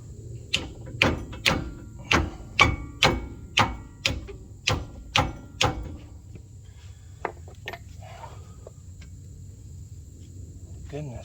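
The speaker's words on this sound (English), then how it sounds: "Maybe I get persuaded with a hammer" A hammer strikes a 2006 Ford Explorer rear knuckle assembly about a dozen times in a steady rhythm, loud and close, then the blows stop and only a faint background remains.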